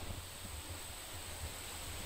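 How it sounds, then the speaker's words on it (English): Steady outdoor wind buffeting a microphone at a shooting range, a continuous rough rumble with low gusty thumps and broadband hiss, no voices. "Sorry about the wind. Wind's blowing."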